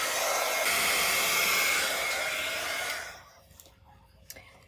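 A heat embossing tool blows hot air in a steady, loud, close whoosh for about three seconds, then cuts off, leaving a quiet room with a couple of faint knocks.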